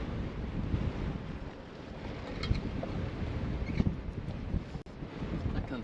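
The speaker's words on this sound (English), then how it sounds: "Bit windy. Super windy." Strong wind sweeps across the open Mundi Mundi Plains, a constant low rumble and buffeting against the microphone that carries through the whole stretch, with brief gusts.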